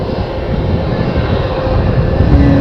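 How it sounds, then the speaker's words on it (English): A Jetstar jet airliner passes close overhead on approach to an airport, its engines giving a loud, steady roar throughout with no speech. "And we've got a Jetstar coming to see us."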